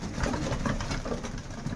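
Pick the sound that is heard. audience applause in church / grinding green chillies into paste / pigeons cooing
pigeons cooing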